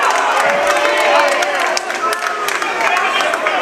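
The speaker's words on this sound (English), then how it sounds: "Moss will be fouled from behind, and the crowd is not happy about that one" A basketball crowd at a high school varsity boys' game in a gym reacts with loud, sustained disapproving noise after a foul from behind, steady crowd roar throughout with scattered shouts.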